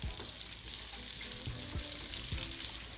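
Capsicum and onion sauté in oil in a pan over a low flame, with a steady close sizzle and a few soft spatula scrapes and taps through it, no talking.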